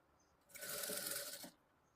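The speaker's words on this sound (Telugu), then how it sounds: "ఇక ఇప్పుడు ఇలా అనుకున్న తర్వాత ఒకసారి దీనిపైన మళ్ళీ ఒక స్టిచ్ వేసుకోవాలి" A sewing machine stitching blouse fabric in one steady burst of about a second, close and fairly quiet, starting and stopping cleanly with no talk.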